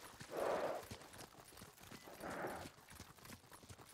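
Faint horse hooves clip-clop in two short bursts in the video game Ghost of Tsushima on PS5, with quiet ambient noise between them and no talking.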